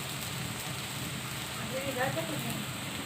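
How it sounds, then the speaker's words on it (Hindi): Shami kebabs fry in hot oil beside seekh kebabs, giving a close, continuous crackling sizzle like light rain. "तो यहाँ पे फ्राई हो रहे हैं शामी कबाब।"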